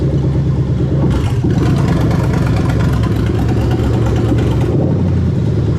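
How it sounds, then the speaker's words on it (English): A Lexus 3UZ V8 engine runs loud and steady while its VVTi solenoid is tested, its tone shifting and roughening partway through before settling back to idle. "as soon as I press the button, you're going to hear a very weird engine noise"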